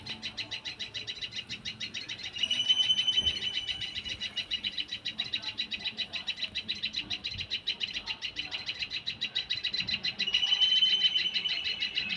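A steady flock of sparrows chirps continuously for about twelve seconds, with dense rapid twittering that swells louder in a couple of stretches, alone without voices.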